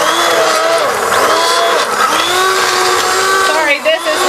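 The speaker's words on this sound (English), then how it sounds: "You just want to puree this until it's nice and creamy." A blender purees chicken corn chowder with potato, corn and cream, a loud, continuous whirring roar whose pitch dips and rises as the load shifts, close up, with a voice talking over it.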